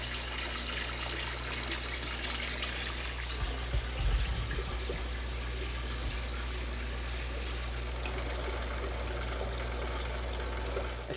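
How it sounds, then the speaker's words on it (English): Water drains steadily from an aquarium tank, a continuous hissing, splashing flow that stays at an even moderate level throughout, with no talking. "I started to drain the tank or lower the tank"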